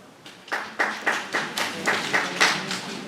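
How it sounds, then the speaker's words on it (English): An audience at a town meeting in Dalton, New Hampshire claps, a sparse spattering of hands with distinct, fairly regular bursts that fade toward the end, fairly faint and without cheering. "Please hold applause."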